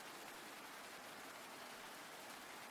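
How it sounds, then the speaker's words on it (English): Soft, steady rain hiss as a quiet ambient backdrop, an even wash of falling drops with no breaks and no other sounds on top. "I quieted the little rain sound instead."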